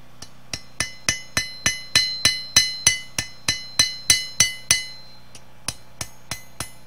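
A small hammer of about one and a half pounds rings on steel while forging a crooked knife blade, a quick, steady series of sharp metallic strikes, each with a bright ringing decay, then a brief pause and a few more blows.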